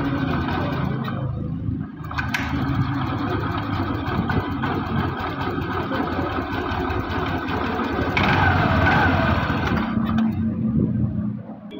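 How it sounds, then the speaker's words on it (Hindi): A BS6 scooter with a misfiring engine runs close by, a steady buzzing drone that rises in pitch when the throttle is opened near the end. "यहाँ पर मैं आपको स्कूटरी में एक्सीलेटर देके दिखाता हूँ।"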